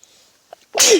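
A single sharp sneeze bursts out loud and close after a faint intake of breath, lasting under half a second with no talking.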